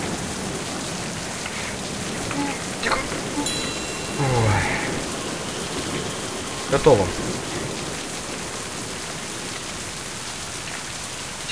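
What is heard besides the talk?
rain in a video game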